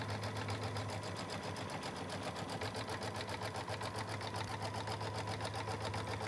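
A sewing machine runs steadily, stitching a placement line through quilt fabric with batting beneath, a continuous fast mechanical whir with an even rhythm that holds close and loud throughout, with no talking.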